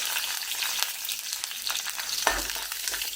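Hot oil crackles and sizzles continuously as chilies fry, with a few sharper spits and pops breaking through.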